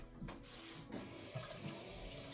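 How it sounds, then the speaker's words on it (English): A small whisk rinsed under a running kitchen tap, a quiet, steady splash of water with faint clinks, continuous and fairly distant. "Wash off my little whisk."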